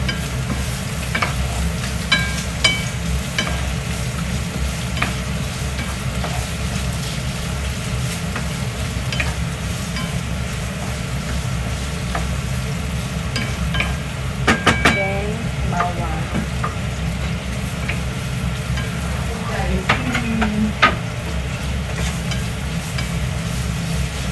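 Onions fry and are stirred in rendered pork fat for Bicol express, a steady loud sizzle with occasional spatula scrapes and clinks against the pan, no voices.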